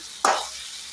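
Fried idli pieces stirred in a hot frying pan give a sudden loud sizzle that fades into a steady softer frying hiss, heard alone without talk.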